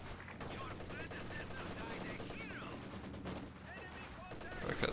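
Machine gun fire crackles in rapid bursts through a competitive match in a Heinz Guderian-themed war game, with rattling volleys and distant battlefield noise continuing under a talking voice.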